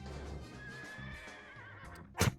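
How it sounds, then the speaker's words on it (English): A horse whinnies in the Deadly Premonition video game, a drawn-out wavering neigh over steady in-game background noise, ending in a short loud snort or impact burst. "Let's see if I can run over a horse."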